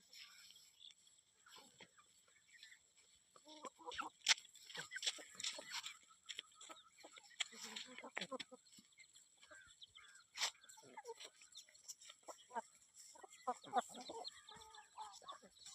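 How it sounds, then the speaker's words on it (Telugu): Chickens cluck and chatter in a busy flock, with scattered sharp calls and pecking noises, fairly near and moderately loud, with no one talking. "చూడండి అండి నా కోళ్ళు"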